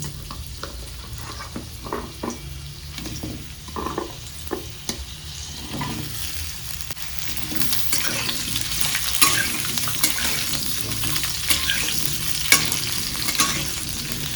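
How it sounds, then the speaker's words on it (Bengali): Potatoes fry with cumin seeds in hot oil, a continuous close sizzle that grows louder and denser partway through, with scattered clicks and scrapes of stirring early on and no talking. "আলুগুলো ভালো করে ভেজে নিই।"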